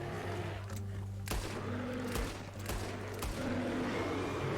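Gunshots ring out during a deer hunt in Red Dead Redemption 2, several sharp, separate cracks spaced a second or so apart over a low steady background, fairly faint and without talk.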